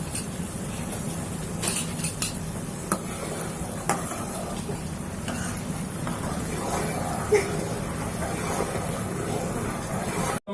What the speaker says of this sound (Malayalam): അപ്പോൾ പഞ്ചസാര പാനിൽ തിളച്ചുകൊണ്ടിരിക്കുകയാണ്.